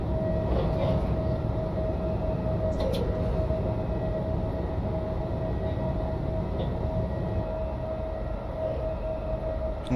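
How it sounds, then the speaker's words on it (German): Freight train in Train Simulator heading toward Donaueschingen, Baden-Württemberg, heard as a steady rolling rumble with a sustained tonal whine and a few faint clicks. "Eine weitere Zugfahrt in Richtung Donaueschingen."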